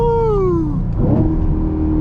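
A manual-transmission car engine revs hard and loud in first gear, its pitch climbing steadily and then falling away into a deep, rough rumble that carries to the end.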